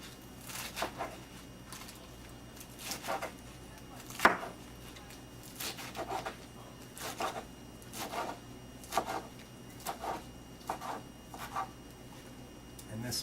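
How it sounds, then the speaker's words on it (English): A kitchen knife slices vegetables for chop suey on a cutting board, producing crisp, separate cuts in irregular runs close by, with quiet gaps between them. "And this also we're going to slice to about 1/4 of an inch,"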